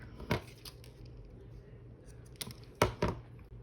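Scissors snip through fabric scraps in a few short crisp cuts, one near the start and a quick cluster near the end, close and quiet with soft rustling between.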